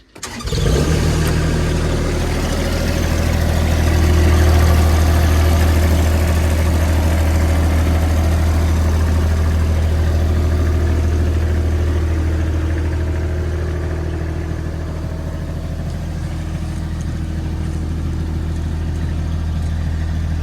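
Avant 528 loader started from cold, the engine cranking and catching, then settling into a loud, steady low diesel idle that eases slightly in level over the following seconds.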